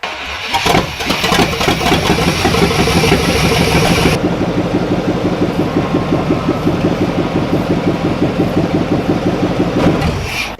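A repaired car engine, freshly retuned to its 1-8-4-3-6-5-7-2 firing order and still missing its exhaust gaskets, catches after a cranking burst and settles into a loud, steady, rumbling idle for about ten seconds with no talk.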